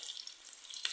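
Bacon sizzles steadily in a pan while cooking for a Sunday feijoada, a continuous crackling hiss with a brief louder spatter near the end and no talking.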